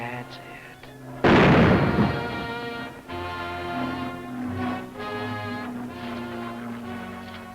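A single loud rifle shot cracks out with a booming decay, followed by someone speaking and faint background music.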